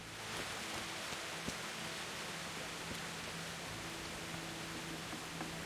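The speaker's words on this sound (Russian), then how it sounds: "Вон дождь идет." Rain falls steadily in the video game Kingdom Come: Deliverance, a soft even hiss with a faint low hum beneath, quiet and unbroken.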